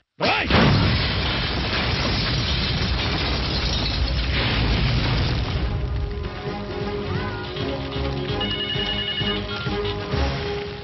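A bomb blast in a mass action movie scene erupts as a sudden loud boom with a long roaring, rumbling tail, which gives way to ringing, tonal debris sounds and a dense background.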